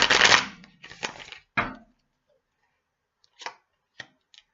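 Several quick papery card riffles and snaps, a dense burst at first, then sparser flicks with short pauses between them.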